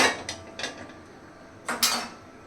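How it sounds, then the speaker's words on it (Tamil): A metal kadai (wok) set down on a stove in a home kitchen while making South Indian pepper chicken, giving a few sharp clattering metallic knocks and scrapes close by, with quieter gaps between them and no talk. "கடாய் வைக்கணும்"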